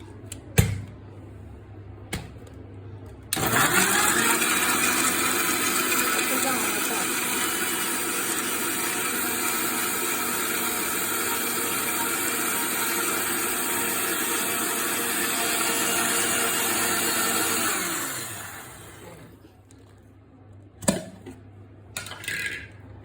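A mixer grinder blending mango juice with a little sugar starts with a few clicks, then runs as a loud, steady whirring motor for about fifteen seconds before winding down, followed by a few knocks and clatters.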